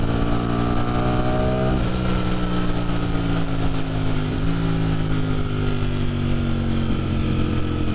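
A Ducati Streetfighter V4 motorcycle engine rises in pitch as it accelerates, shifts down briefly, then climbs again, loud and close with steady wind rush and no talking.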